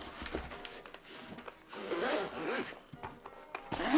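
YKK zippers on a Spigen Nintendo Switch 2 case slide open and shut in several quick rasping pulls, close and fairly loud, with soft rubbing and handling noises between strokes.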